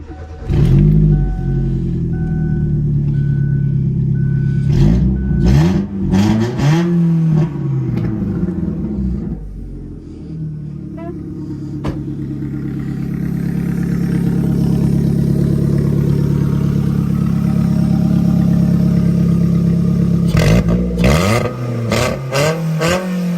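A car engine fitted with a hood stack exhaust revs hard several times, with loud throaty blips, then settles into a sustained rumbling drone before revving sharply again at the end.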